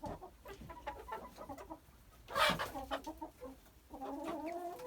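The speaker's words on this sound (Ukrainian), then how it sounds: "Вийшло в нас ось наші півники легорни" Young Leghorn roosters cluck and chatter nearby at moderate volume, with one louder squawk partway through and continuous soft clucking around it.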